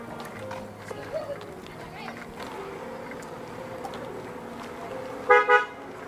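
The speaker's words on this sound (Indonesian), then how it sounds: "Ada mobil, Nur. Minggir dulu" A car passes on a village road in Indonesia and gives two short horn toots near the end, under faint talk and low traffic rumble.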